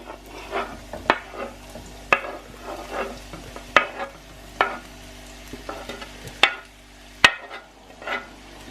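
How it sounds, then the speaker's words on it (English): Chopped leeks frying in a pan, a steady close sizzle broken by repeated scraping and clacking stirs with a utensil against the pan, some strokes sharper and louder, no talk. "we're going to cook them until they are softened"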